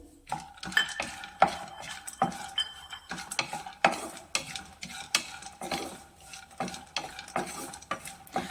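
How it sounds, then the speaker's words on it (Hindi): A spatula scrapes and stirs chopped dates roasting in ghee in a hot pan, with a steady soft sizzle and irregular metallic clinks throughout. "इसे हम 1 से 2 मिनट भून लेते हैं।"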